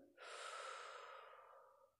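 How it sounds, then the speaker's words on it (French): A long, deep exhalation through the mouth during a guided relaxation exercise, a breathy rush that starts abruptly, holds steady and tapers off near the end, close and alone. "soufflez par la bouche"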